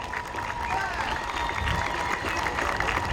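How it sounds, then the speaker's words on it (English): Crowd applause and cheering at a youth baseball league's 75th anniversary opening day, outdoors, steady and dense with a whistle-like tone and voices mixed in throughout. "Give them a round of applause"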